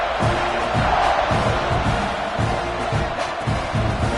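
A football stadium crowd roars continuously during a kickoff, a dense wall of cheering and shouting with rhythmic pulses of chanting or stomping running through it.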